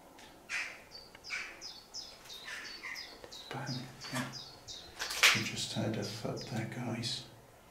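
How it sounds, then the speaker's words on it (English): Crows caw repeatedly at a moderate distance outdoors near a mansion, a series of harsh calls in irregular bursts that mix with people talking quietly. "That might be one of the crows there."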